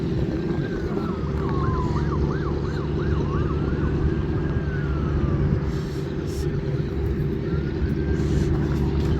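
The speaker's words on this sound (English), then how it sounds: "you might hear some police background." Police siren wailing and yelping at a distance in a waterfront port area where the cruise ship Viking Polaris waits to depart, rising and falling over a steady low engine and machinery drone.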